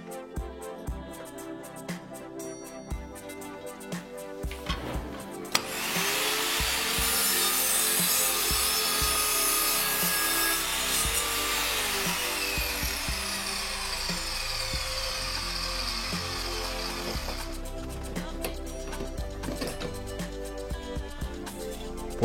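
An Evolution R210SMS+ radial mitre saw makes 45-degree mitre and bevel cuts through fir decking boards. The motor spins up and whines through one long, loud cut lasting about twelve seconds, then winds down into quieter workshop noise.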